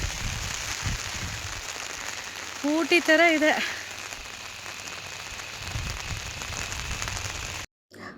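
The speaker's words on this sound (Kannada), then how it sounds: "ಜಾಸ್ತಿ ಬರ್ತಾ ಇದೆ ಮಳೆ." Heavy rain pouring over a green hillside makes a constant broad hiss, with a person speaking briefly partway through and a short cutoff at the very end.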